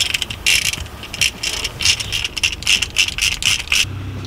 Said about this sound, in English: we'll just pop those fasteners in real quick